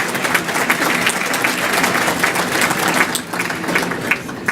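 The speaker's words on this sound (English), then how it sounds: "Please, everyone, give yourselves a hand of applause." An audience at a State of the County event applauds, a dense, sustained wash of many hands clapping at once, steady and fairly loud for the whole stretch.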